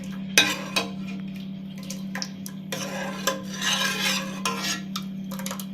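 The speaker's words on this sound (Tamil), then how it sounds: "கரண்டியை வச்சு இப்படி கிண்டினாலே போதும்" A ladle scrapes and clinks in a pot of cooked moong dal with irregular stirring strokes over a steady low hum.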